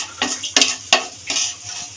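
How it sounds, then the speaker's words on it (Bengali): Black cumin seeds tempering in hot oil in a Bengali kitchen, a steady sizzle broken by four bursts of spatula scraping and stirring, close and fairly loud, with no talking. "গরম তেলের মধ্যে ফোড়ন দিয়ে কালো জিরে"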